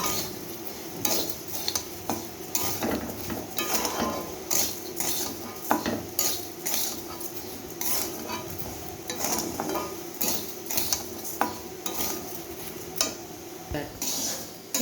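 Gobindobhog rice toasting in a pot is stirred with a metal spoon, giving repeated scraping clinks and rattling grains against the metal in an irregular rhythm, close by, with a faint fry underneath.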